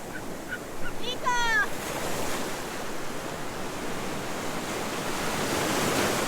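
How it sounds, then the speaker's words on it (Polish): Sea waves break on the beach at Sozopol, Bulgaria, a constant broad roar of surf with a brief rising whistle-like call near the start. "Zobaczcie jakie fale są, straszne."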